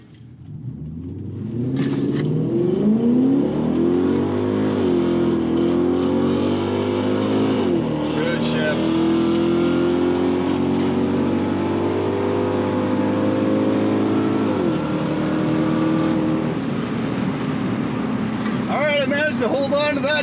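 An Infiniti Q45 on new wheels and taller tires at a drag strip, its engine revving and then launching off the line with a slight bog: a close, rising engine drone that climbs through shifts and holds loud, while people talk over it.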